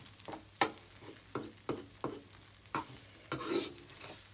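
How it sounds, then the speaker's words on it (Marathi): Moong dal halwa is stirred and fried in ghee, with repeated scraping strokes of a spoon against the pan over a soft sizzle, close and fairly quiet. "याला व्यवस्थित अगोदर फ्राय करून घ्या जेणेकरून याच्या गाठी बनणार नाही"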